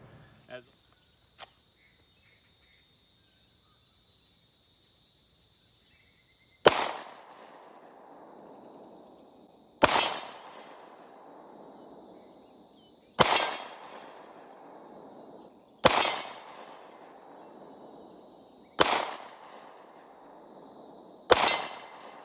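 Six sharp Glock 43X MOS pistol shots fired at a target 30 yards away ring out at irregular intervals several seconds apart, each a loud crack with a short decaying tail over quiet outdoor background.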